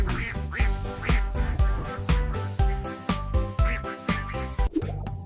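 A duck's quack, probably a voiced imitation, repeats in a bouncy rhythm over a bright children's nursery-rhyme tune, several short loud quacks set against the music.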